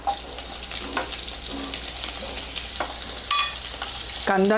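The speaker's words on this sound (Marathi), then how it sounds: "थोडासा लालसर होईपर्यंत आपल्याला परतून घ्यायचा आहे।" Chopped onion sautéing in a pan for a white pea usal, a steady close sizzle with occasional scraping stirs of a spoon against the pan.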